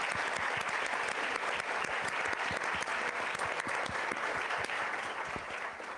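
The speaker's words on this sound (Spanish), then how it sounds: "denles un aplauso" Steady, dense applause from a large audience at a formal Mexican legal forum on preventing and punishing femicide, sustained and even for the whole stretch with no talk over it.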